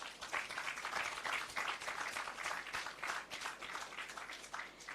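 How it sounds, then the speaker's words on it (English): An audience gives a round of applause at the official opening of a new recycling plant, a steady, even clapping throughout, somewhat distant and quiet, with no speech over it. "So I think we should start off by giving RPJ a round of applause."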